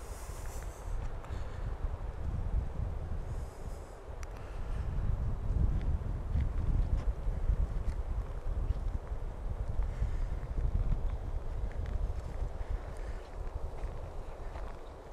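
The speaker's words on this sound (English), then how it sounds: "There's some wind for you." Steady low rumbling wind buffeting a DIY Primo EM272 lavalier microphone outdoors, with gusts rising and falling throughout and no talking.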